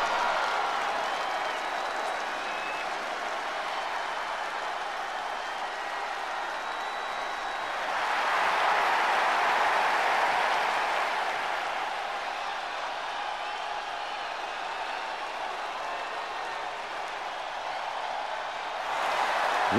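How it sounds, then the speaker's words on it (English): A crowd in the wrestling video game WWE 2K24 applauds and cheers continuously, swelling louder midway, a steady roar of clapping filling the whole stretch. "Round of applause, round of applause."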